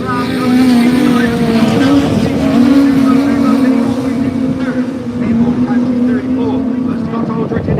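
Racing cars lapping a circuit with a loud, sustained engine drone that swells and eases as they head into a turn, and a commentator talking over it.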